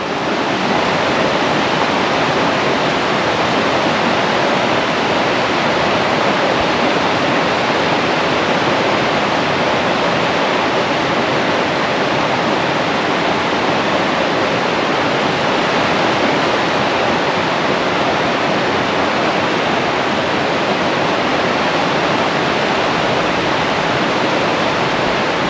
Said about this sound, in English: One thing we do have is an abundance of water. Look at it just flowing through the trees.